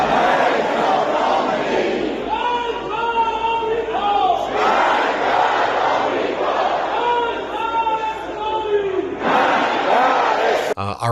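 A large Iranian crowd packed into a subway chants in loud rhythmic unison, repeated phrases echoing in cycles of a few seconds each, with a sharp cut-off at the end.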